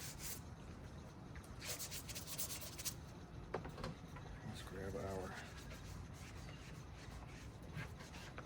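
A cellulose magic eraser sponge scrubs over the midsoles of thrifted shoes in quick, soft rubbing strokes, a faint steady scratchy texture close up.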